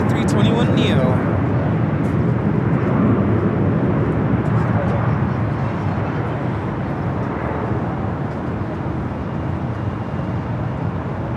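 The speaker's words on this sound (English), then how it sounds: "This is Delta Airlines 867 taking off to Orlando, Florida on the A321neo." A Delta Airlines Airbus A321neo taking off for Orlando from LAX: a loud, steady, broad jet roar that holds throughout, with someone talking over it near the start.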